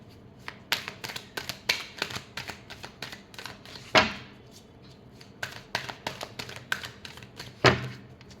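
Tarot cards being shuffled by hand in a quiet room, a rapid run of crisp riffling flicks broken by two louder thumps as the deck is squared, with no voices.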